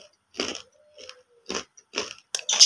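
Crunchy baso aci, a tapioca snack, is bitten several times in close, crisp bursts of crunching separated by short pauses, with a faint tone between bites.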